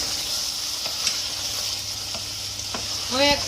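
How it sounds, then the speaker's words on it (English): Marrow curry sizzles steadily in a pan as it is given a quick stir, with soft scraping taps over the constant frying hiss. "So this has been cooking for 10 minutes. Give it a quick stir. Cooking nicely."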